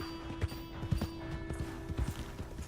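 Horse hooves clip-clop steadily in Red Dead Redemption 2, a quick even rhythm of close, moderately loud footfalls over a constant background hum, with no talk.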